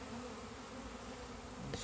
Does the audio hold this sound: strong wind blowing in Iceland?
no